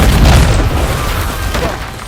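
A loud, deep boom rolls out and slowly decays over about two seconds, an explosion sound effect in a Catalan-language summary of the Star Wars film Rogue One.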